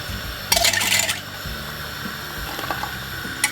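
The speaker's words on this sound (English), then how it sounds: "Just gonna rinse up my jug." Water runs and splashes as a kitchen jug is rinsed out while making Jamaican green plantain porridge, with a brief louder gush near the start, then quieter trickling and light clinks, close up, no talking.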